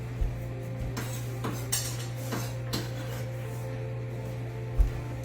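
Onions stirred into Italian sausage in a pan, with a utensil clinking and scraping against the metal in a few separate strokes over a steady background hum, close and fairly quiet, no voices.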